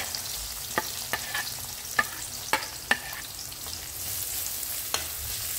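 Onion and ginger sautéing in a pan for coconut-milk shrimp, a continuous oily sizzle punctuated by several sharp clicks of a utensil stirring against the pan.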